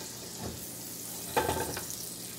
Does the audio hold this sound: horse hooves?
no